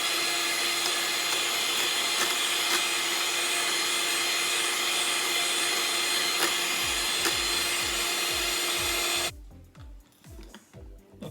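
Crème brûlée mixture beaten in a bowl until pale, a steady loud whirring mixer drone running continuously for about nine seconds, then cutting off, leaving soft clinks and scraping.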